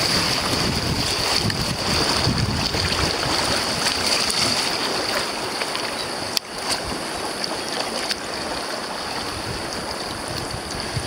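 A kayak runs river rapids on the Spokane River. Rushing, churning water and strong wind buffeting the microphone make a loud, continuous wash with one sharp knock partway through.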